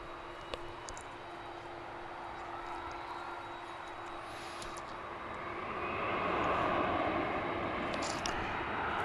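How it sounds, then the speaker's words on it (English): Embraer 175 airliner departing DFW Airport, a distant engine roar that grows steadily louder and broader over several seconds, heard from a spotting position with no talking. "Here goes an Embraer 175 off to Corpus Christi, Texas."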